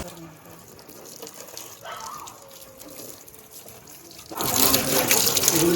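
Water sprays and splashes loudly in the last second and a half, after quieter background noise with faint voices.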